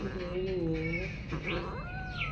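A kitten in pain meows and wails loudly at close range, the plaintive cries drawn out and rising, rather strained, filling the whole short stretch.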